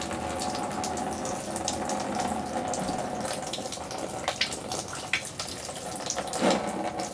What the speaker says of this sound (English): You're going to let this drain until it's completely empty.